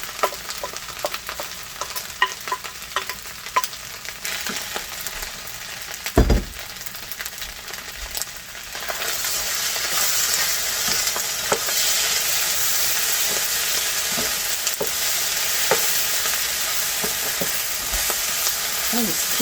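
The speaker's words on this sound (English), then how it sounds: "And just keep on stirring until it's a little dried out." Vegetables frying in a pan are stirred, giving close scraping and tapping at first, then a steady, louder sizzle that carries on to the end.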